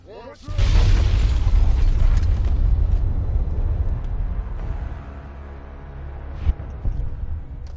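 Grenade blast in Fallout: New Vegas, a loud deep boom erupting after a brief lead-in and rumbling down over several seconds, with a smaller pop and crackle near the end.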